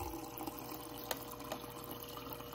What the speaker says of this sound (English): First glass of water with the new filter.